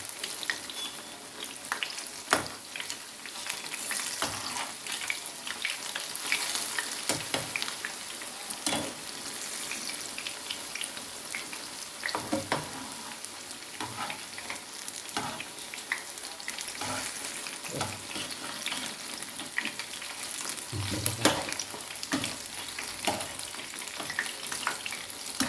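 Pazham pori banana fritters frying in oil in a deep pan, a steady close crackling sizzle with occasional louder pops and stirring scrapes, continuing without speech for a long stretch.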